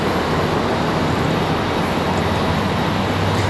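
A steady, broadband jet roar from an Embraer E175 airliner taxiing at Charlotte Douglas airport, moderately loud and constant, with no voices.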